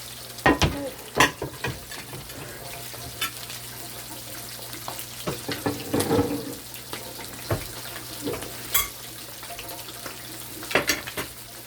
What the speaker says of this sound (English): Just washing off my vegetables.